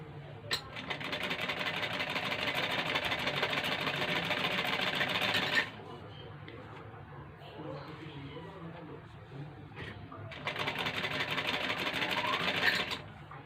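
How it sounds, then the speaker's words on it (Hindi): Sewing machine stitching along the curved edge of buckram at a garment neckline, running loudly and steadily in two bursts separated by a quieter pause with someone speaking. "मैं आपको सिलाई लगाकर दिखाती हूँ।"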